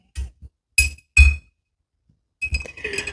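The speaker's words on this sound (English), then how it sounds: "Stir, stir, stir, stir." A spoon clinks against a glass while a cocktail is stirred, with a few sharp bright taps in uneven bursts, close and loud, no one speaking.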